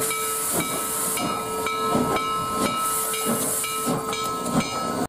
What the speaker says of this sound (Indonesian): Widih, yang ini kereta api teman.